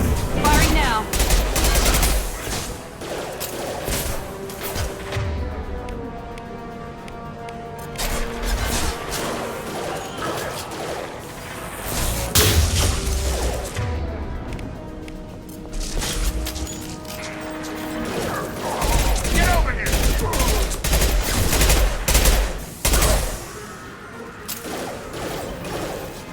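Gunfire in Mass Effect 2 gameplay, loud and sustained with bursts of rapid shots and crashing impacts across the whole stretch, mixed with game effects and a voice now and then.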